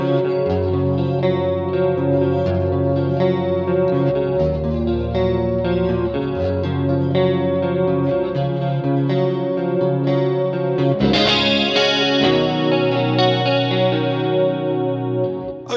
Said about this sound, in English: Very convincing Rockman type sound.